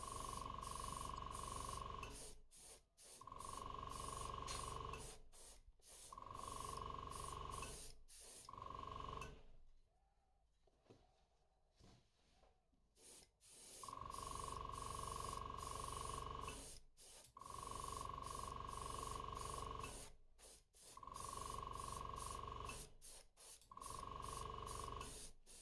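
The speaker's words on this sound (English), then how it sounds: "I sprayed this on everything that we didn't paint white in the previous step" An airbrush or spray gun coats a crankbait fishing lure in purple paint with repeated hissing bursts of a few seconds each, close and steady, separated by brief pauses and one longer quiet stretch midway.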